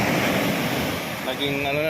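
Strong, muddy brown sea surf pounding a beach after heavy rain, a loud continuous wash of waves mixed with wind noise, while someone talks over it.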